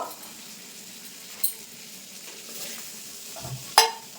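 Spiced chicken for pizza topping stirred in a pan to dry out the masala: a low, continuous sizzle with a few scrapes and a sharp clack near the end, close up and without speech.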